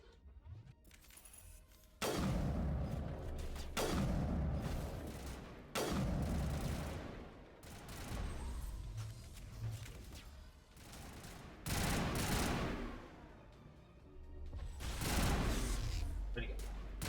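Loud bursts of pistol and weapon fire in the video game Mass Effect Legendary Edition, coming in repeated volleys with short pauses between them, mixed with game sound effects.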